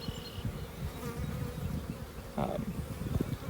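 Honey bees buzz in a dense, steady drone around a hive during an inspection, close and continuous with a few louder passes.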